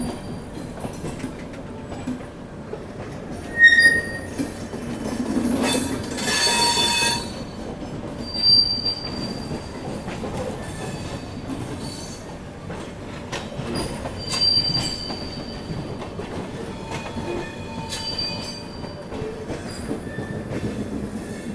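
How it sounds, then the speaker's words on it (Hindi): The Netaji Express passes near Kanpur Central, a sustained rumble of rolling coaches with high wheel squeals and clanks, steady and fairly loud, with no speech. "दोस्तों Netaji express crossing Netaji express, ये देखो वो भी नेताजी एक्सप्रेस ही जा रही है।"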